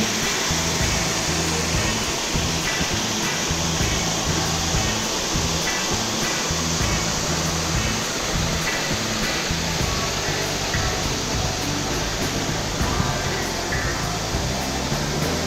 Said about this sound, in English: We're chasing waterfalls, not in Niagara, but in Penang.